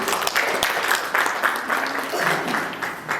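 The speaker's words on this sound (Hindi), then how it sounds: "हम उनके लिए ताली बजाते हैं।" Audience clapping for five sisters being honoured at a felicitation for the installation of a new Provincial, a steady, fairly close wash of applause with some crowd noise and faint voices mixed in.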